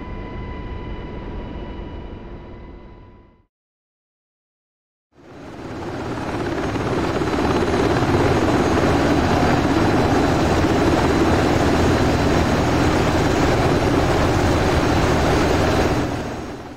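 A UH-60L Black Hawk helicopter in the DCS World flight simulator gives a steady, loud rotor and turbine drone. A faint hum cuts to a moment of silence, then a full, continuous roar holds to the end with no talking.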